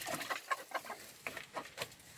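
Backyard chickens clucking in a flock, a quick series of short, soft clucks and squawks at a fairly close distance, with no voices.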